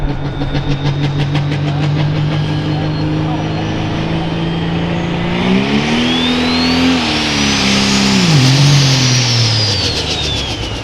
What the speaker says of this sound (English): Underneath the hood, that sounds like a jet engine taking off.